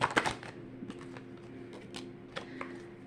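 Decks of playing cards being shuffled, a quick burst of crisp riffling snaps at the start followed by faint scattered card taps and rustles, quiet and close.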